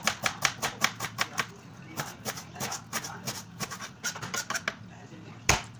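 Onion and paprika being chopped for Saudi-style marguq: rapid, crisp knife strikes on a cutting board in quick bursts, near and fairly loud, with a few short pauses and one sharper knock near the end.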